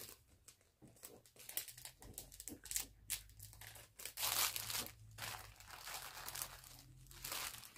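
Plastic packaging of hair clip extensions crinkles and tears in close, quiet bursts as it is pulled open by hand, with irregular crackling rustles and short pauses between them.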